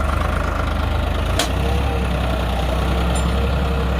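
A 55 horsepower tractor pulls a 7-tine mini plough through dry soil, its heavy diesel engine thrumming loudly and steadily nearby, with a brief sharp click partway through.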